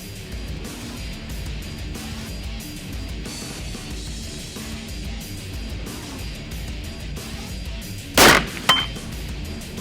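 A rifle fires at a target during long range practice, two sharp loud reports close together near the end after a stretch of steady outdoor background noise.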